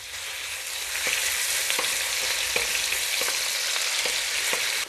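Thin strips of rump steak fry steadily in a hot pan, a dense continuous sizzle holding at an even level, with a few faint clicks of utensils scattered through it and no voices.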